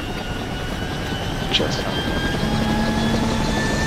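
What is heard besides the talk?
helicopter in the video game Project Reality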